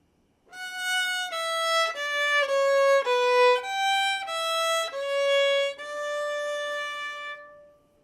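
A violin plays a slow exercise melody in a sharp key, four beats to the measure, as a string of about a dozen clear sustained bowed notes stepping up and down. Close and alone, with no talking.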